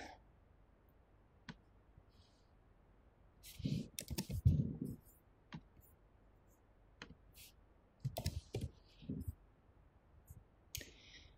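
A computer mouse clicks a link during an RNA-seq training session, giving a few sharp, close clicks spaced across the stretch, with brief bursts of nearby voice activity in between.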